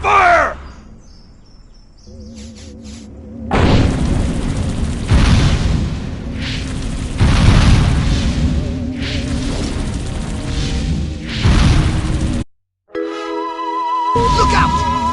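Weapons fire and explosions erupt in Destroy All Humans! on PS4, with loud, dense blasts and booming bursts that roll on almost without pause, cut by one brief silence near the end.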